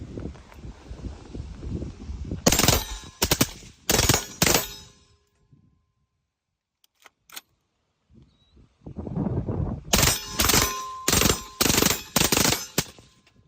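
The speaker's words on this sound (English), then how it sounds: "So what we're going to be doing is firing full auto," A suppressed rifle fires full automatic in several sharp bursts, with a quiet pause in the middle and wind noise around the shots.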